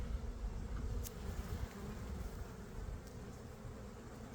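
Honey bees swarm around an open hive during a frame inspection, a continuous low droning hum from many insects, soft and steady throughout with occasional brief higher buzzes passing close.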